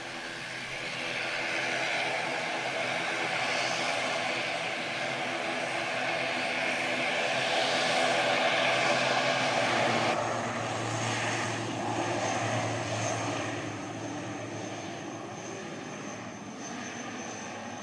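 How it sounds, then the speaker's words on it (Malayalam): An airplane on the runway at Kozhikode (Karipur) airport in Kerala, its engines a loud, steady roar that swells over several seconds and then eases into a lower, continuing drone, heard from a nearby outdoor viewpoint. "കോഴിക്കോട് എയർപോർട്ടിൻ്റെ റൺവേയിലെ ഫ്ലൈറ്റ് ഇത്രയും അടുത്ത് നമുക്ക് കാണാൻ പറ്റിയ നല്ലൊരു വ്യൂ"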